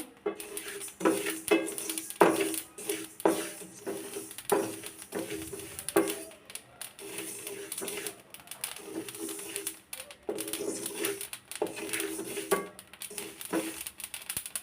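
Mashed vegetables for a bhorta being stirred and fried in a pot, with a steady run of spatula scrapes and knocks against the metal and a faint sizzle beneath, close and without talk.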